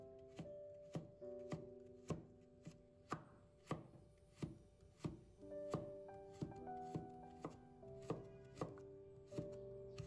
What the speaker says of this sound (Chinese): 然后再切成细丝。